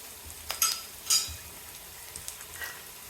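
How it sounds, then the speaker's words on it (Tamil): Curry leaves crackle and sizzle in hot oil for a restaurant-style chicken changezi curry, a soft, quiet hiss broken by a few sharp pops and light clinks of a stirring spoon. "கருவேப்பிலை தழை போட்டுக்கலாங்க."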